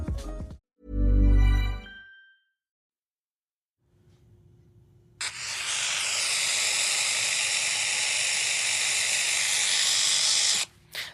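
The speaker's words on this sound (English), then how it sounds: "It's the sound of a fizzing pylon." Fizzing electricity pylon giving off a loud, steady broadband hiss that starts abruptly and holds for several seconds, preceded by a short low burst and a quieter crackling patch.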